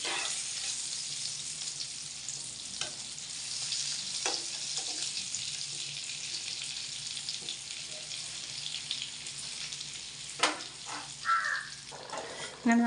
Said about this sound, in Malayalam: രണ്ട് സൈഡും തിരിച്ച് മറിച്ചിട്ട് നമുക്കതൊന്ന് മൊരിയിച്ചെടുക്കാം.